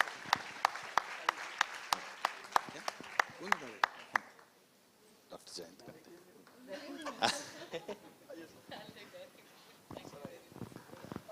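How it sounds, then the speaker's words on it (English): A conference audience claps in sharp rhythmic beats that soon loosen into scattered applause, with a voice speaking over it and some chatter and chuckles. "A big round of applause for Dr. Munira Momin"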